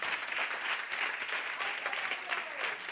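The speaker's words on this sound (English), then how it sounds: "I would love you all to give a big round of applause from Startup Valencia." Crowd at a startup conference arena stage in Valencia gives a warm round of applause, continuous dense clapping at moderate volume lasting a few seconds without letup.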